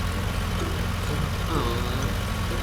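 A tractor engine in the Farming Simulator 19 video game, heard as a steady, dense mechanical drone that runs throughout, with a voice faintly present over it.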